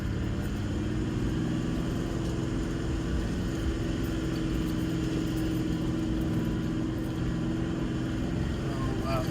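Engine of a Toyota Troop Carrier 4WD held in first gear at about 2,500 rpm on a soft, steep bush track, a steady loud drone with rumbling throughout.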